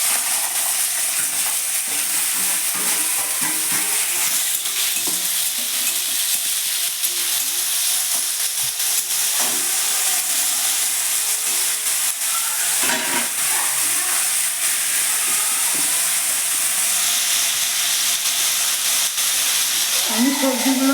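Vegetables fry together in hot oil in a wok, making a loud, sustained hiss and sizzle with intermittent stirring scrapes throughout.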